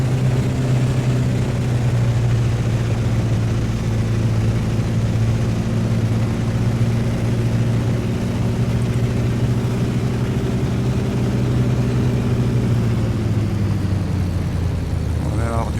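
A Bf 108 Taifun's propeller engine drones steadily at throttle in Microsoft Flight Simulator, a constant loud hum that shifts slightly near the end, with a voice talking over it.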